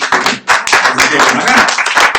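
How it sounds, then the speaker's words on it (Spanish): Church congregation applauding together during a Sunday sermon, a dense, loud burst of clapping with voices mixed in throughout. "Un aplauso al Señor."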